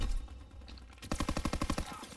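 Automatic gunfire in the video game Call of Duty WW2. A rapid, evenly spaced burst of about a dozen close, loud shots follows a short lull.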